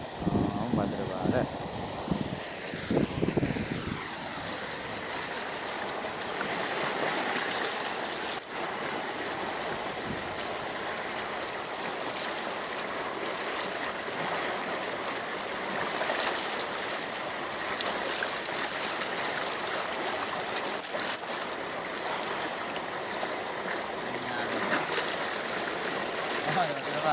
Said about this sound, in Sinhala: කොහමද? වතුර ප්‍රෙෂර් එක. දැක්කනේ?